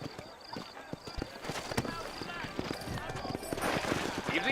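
Horse hooves clip-clopping at a steady walking rhythm in the Western video game Red Dead Redemption, set in New Austin, mixed with game ambience and a short whinny, while someone talks over it.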